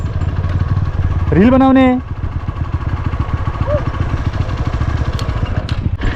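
A motorcycle engine idles with a steady low, even throb on a rural Nepali trail, close and continuous, while people talk over it and a brief rising tonal sound cuts in early.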